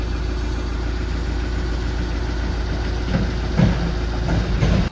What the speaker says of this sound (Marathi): इथून गाडी काढतोय त्याचं पहा.